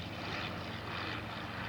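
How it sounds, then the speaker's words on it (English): A restored Bristol Fighter WWI biplane flies a display at the Duxford Flying Legends air show, its propeller engine droning steadily and fairly distantly with a slight swell and fade. "Here's the first display flight of the fighter collection. Bristol fighter, monumental occasion."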